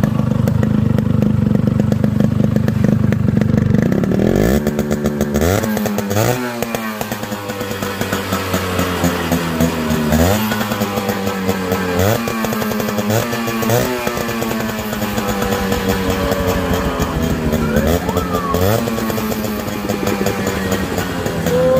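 A modified Yamaha RX 100 two-stroke motorcycle with a new zero-bore cylinder and piston runs loud and close, idling briefly and then revving up and down in repeated rising, crackling bursts throughout, with no talking.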